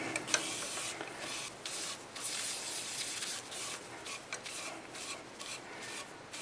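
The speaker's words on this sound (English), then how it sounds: "I'll put it on this way so I can take this cloth and then wipe it in" A cloth wipes polycrylic finish onto a piece of turned wood, making a soft, close rasping rub in repeated strokes with brief pauses, faint and without talk.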